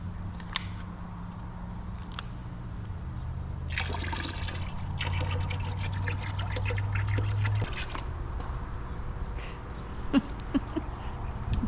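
Orange juice poured into a large crawfish boil pot, a low steady splashing stream that grows fuller for a few seconds in the middle, heard nearby under faint outdoor background noise with no speech.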